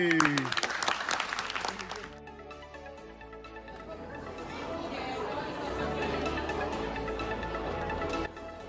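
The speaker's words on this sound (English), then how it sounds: "Give yourselves a round of applause." A group in London applauds for several seconds, clapping mixed with lively voices and cheering.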